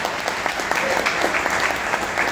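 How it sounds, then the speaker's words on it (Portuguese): An audience gives a steady round of applause at an event, a dense, continuous clapping that stays fairly loud throughout. "Senhoras e senhores, uma força de palmas para Boaventura Mondlane"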